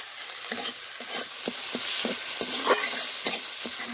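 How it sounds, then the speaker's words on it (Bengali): Spices with tomato, salt and turmeric sizzle and fry in a pan while a spatula scrapes and stirs in a steady repeated rhythm, close and fairly loud with no talking. "মশলা আমাদের ভালোভাবে কষানো হয়ে গেছে"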